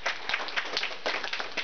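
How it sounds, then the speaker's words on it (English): A graduate-house performance audience applauds, a dense, steady burst of clapping from a crowd in an indoor room, short and fairly loud. "Everyone give Jules a round of applause, please."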